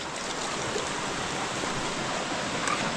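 Water from a mineral spring flows steadily near a garden, making a constant, even rushing and splashing noise that stays close and unbroken throughout.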